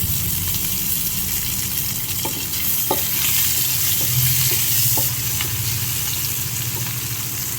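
Vegetables and chopped tomato frying in oil in a pan for a fish curry with ridge gourd and taro, a loud, steady, close sizzle with occasional light knocks of a stirring spoon.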